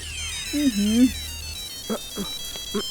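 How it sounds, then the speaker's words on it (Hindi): A mobile phone ringtone plays in a Bollywood Hindi romantic film scene, a short melodic tune with a few bright repeating notes over faint background sound. "अरे ये तो हमारे टुल्लू का फोन है।"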